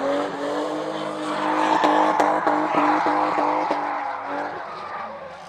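A BMW drifting on a track, its engine revving hard in rising and falling bursts while the tires squeal continuously, loud and close, with no talk over it.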